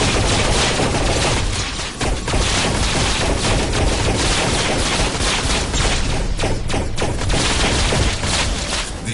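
Gunfire aimed at militia bots in the Scraper: First Strike video game: loud, dense, continuous rapid shooting with sharp repeated bursts and no break across the whole stretch.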